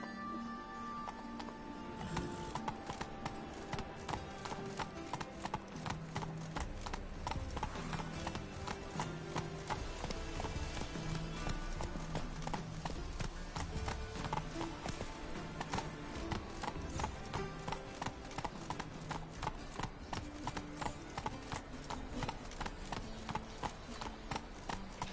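Roach the horse galloping in The Witcher 3, steady rapid hoofbeats clip-clopping in a continuous rhythm over game music and ambience, moderately loud throughout.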